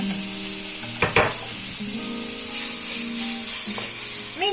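Meat sizzles steadily as it fries in melted fat, a continuous close hiss broken near the start by a couple of sharp clinks of a utensil stirring in the pan.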